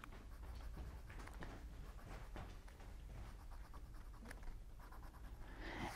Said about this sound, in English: I could draw fence posts.